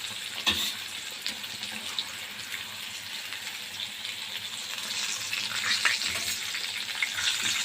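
Breaded chicken panée frying in oil in a pan, a loud, continuous close sizzle with sharp crackles and a few utensil knocks, no talk.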